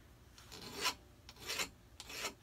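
Three rough rasping file strokes smooth a burr off the clipped end of a cut silverware olive fork, each stroke swelling then fading, close and fairly quiet with no talking.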